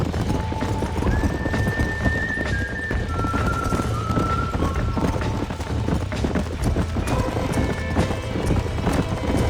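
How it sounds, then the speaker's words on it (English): Horses from the Red Dead Redemption video game trot with steady clip-clop hoofbeats under a continuous outdoor bed, with several high whinnies and neighs breaking through the middle and near the end. "These are fine horses."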